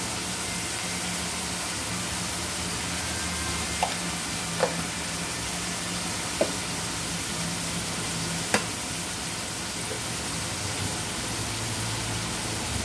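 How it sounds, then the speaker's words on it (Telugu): Onions with salt fry in a pan in a steady, close hiss of sizzling that runs throughout, broken by a few faint clicks and pops. "ఉల్లిపాయలు వేగుతాయి కదా, కొంచెం సాల్ట్ వేసుకున్నాం, తొందరగా వేగుతాయి"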